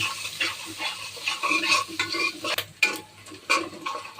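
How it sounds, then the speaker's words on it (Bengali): Chopped garlic and onions frying in hot oil in a pan, a steady close sizzle broken by repeated scraping stirs of a utensil against the metal. "পেঁয়াজটাও 1 মিনিট ভেজে নিব।"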